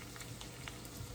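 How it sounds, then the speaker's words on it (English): Faint, steady sizzling of red onions just added to a hot pan for a gluten-free quiche, a soft continuous crackle with no voices. "I can see I got a little bubble, so I'm gonna add my onions in"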